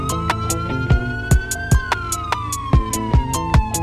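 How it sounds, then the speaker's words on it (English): A police car siren in a video game police pursuit, a loud wailing tone sweeping up and down over steady thumping beats. "You're not primary, turn your sirens off."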